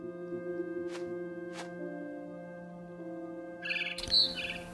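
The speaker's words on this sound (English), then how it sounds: "Then I heard chirping outside my window." A barn swallow chirps in the video game What Remains of Edith Finch, two brief high chirps over a quiet tonal game background, followed by a clatter of brighter sounds near the end.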